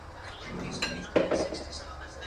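Soaked rice is tipped into a pot of pre-cooked lamb mixture, giving a few clinks and a brief scraping clatter of utensil on metal, fairly quiet and close.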